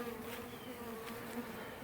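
A swarm of honeybees hums steadily from a fallen tree as they are being cut out, a faint, continuous buzzing drone with a few louder passes.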